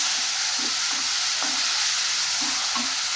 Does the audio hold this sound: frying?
yes